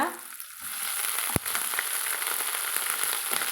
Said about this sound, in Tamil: இப்போ நான் வந்து முருங்கைப்பூ வந்து பிடுங்கி க்ளீன் பண்ணி எடுத்து வச்சுக்கிறேங்க அதையே இது கூடவே சேர்த்து வதக்கிறேங்க